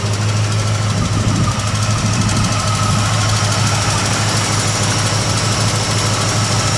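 A 1967 Ford Mustang's 289 V8 with a four-barrel carburetor idles steadily and loudly up close, its low, even rumble carrying a slight knocking pulse throughout with no talk over it.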